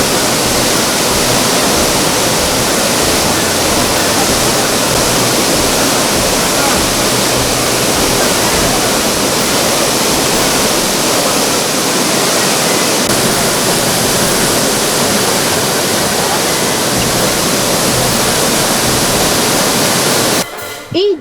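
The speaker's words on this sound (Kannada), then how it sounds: "ಫಾಲ್ಸ್ ನೋಡಲಿಕ್ಕೆ ತುಂಬ ಚೆನ್ನಾಗಿದೆ ಹಾಲು ಉಪ್ಪೋ ರೀತಿಯಲ್ಲಿ ಉಕ್ತಾ ಇದೆ" Abbi waterfall, swollen by rain and crashing over large boulders below a hill, roars in a dense, constant wash of water noise, loud and close throughout with no break.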